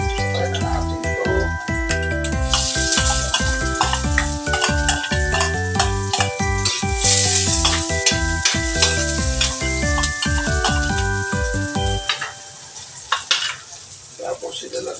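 Garlic and ginger sizzle loudly in a hot pan for an adobo dish, with a steady rhythmic scrape of stirring throughout before the frying noise drops away near the end.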